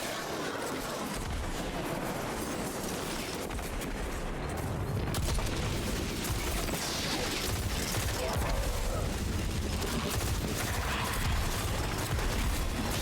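Dense, continuous gunfire and explosions from a Sunshot hand cannon roar without letup in a Destiny firefight, loud and chaotic with blasts layered over one another.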